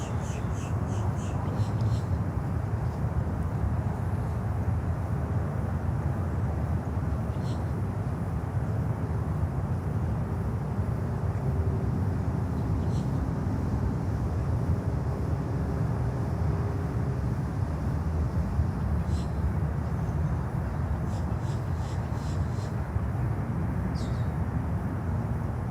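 An American Airlines Boeing 777 from Madrid arriving at Miami airport produces a steady, low, broad jet rumble lasting throughout, moderately loud and distant, with scattered faint bird chirps and light clicks over it.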